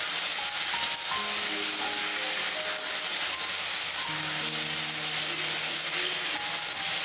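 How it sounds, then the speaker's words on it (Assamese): Spices sizzle steadily in a pan in a traditional Assamese vegetarian kitchen, a continuous bright hiss under faint tonal background music, close and even throughout. "মছলাখিনি মোৰ ধুনীয়াকৈ ফ্ৰাই হৈ গৈছে"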